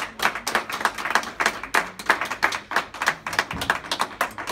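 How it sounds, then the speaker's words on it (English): A small audience claps in a fairly regular rhythm, the hand claps close and distinct rather than blending into a roar, lasting a few seconds. "one more round of applause for Gavin Syme."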